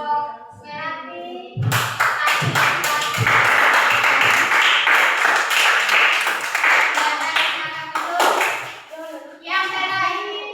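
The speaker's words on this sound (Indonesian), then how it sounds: "Ya, kita berikan aplaus dulu kelompok melati." Students in a classroom applaud a group, a dense burst of clapping that swells in after a short spoken remark and carries on for several seconds, loud and close, before fading as a voice resumes.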